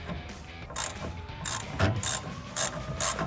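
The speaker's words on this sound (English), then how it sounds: "So we're just gonna get our 10 millimeter and our socket on there," A 10 mm socket wrench ratcheting on a 1999-2004 Mustang brake line fitting, several quick bursts of close, crisp metallic clicking in an uneven rhythm, with no talk.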